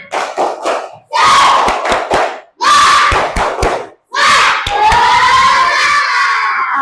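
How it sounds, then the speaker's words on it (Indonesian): Schoolchildren in a classroom perform a loud rhythmic clapping chant, shouting the words in unison in bursts punctuated by sharp claps and ending on a long, drawn-out group shout. "Tepuk semangat."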